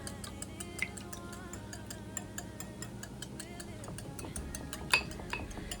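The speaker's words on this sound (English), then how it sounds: "We're going to whisk this." Milk, 1% skim, about three quarters of a cup, is whisked in a bowl, producing a fast, steady run of light clinking taps against a low background murmur.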